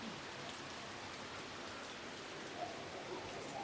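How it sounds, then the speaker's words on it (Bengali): Rain falls steadily beside a park, a soft even wash of drops heard from a small shelter, faint and continuous with no talking. "পার্কের পাশে দাঁড়িয়ে দাঁড়িয়ে এরকম বৃষ্টি দেখতে আসলে ভালোই লাগে।"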